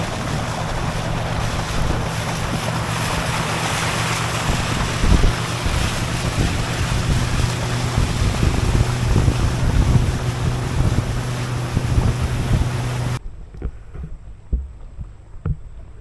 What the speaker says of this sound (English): Very short ride with the boat.